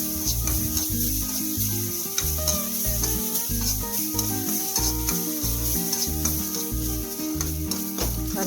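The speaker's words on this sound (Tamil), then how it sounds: "நல்லா அந்த எண்ணெய் பதம் இல்லாமல், அதாவது தண்ணி பதம் இல்லாமல் நல்லா வறுத்து எடுக்கணும்" Steady sizzling and scraping of coconut being dry roasted and stirred in a hot pan, with a rhythmic clatter of a spatula throughout, close and continuous.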